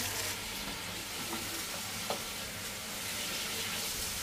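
Meat frying in korma masala in a home kitchen, a steady dense sizzle heard close up with a few faint stirring clicks and no talk.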